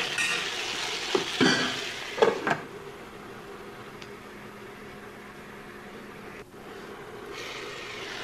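Potatoes sizzle steadily in a pan over low-to-medium flame, with a few sharp scraping stirs near the start, then a continuous even frying hiss.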